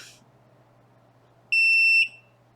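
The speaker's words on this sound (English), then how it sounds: "So beep, beep, beep, beep a million times for a metal." A gemstone tester beeps steadily for about half a second as its probe touches metal on sterling silver jewelry, a clear high electronic tone over a quiet low hum.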